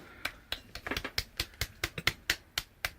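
A series of about a dozen sharp, dry finger snaps in a film scene, crisp and fairly close, snapped in a loose irregular rhythm over a few seconds with quiet gaps between.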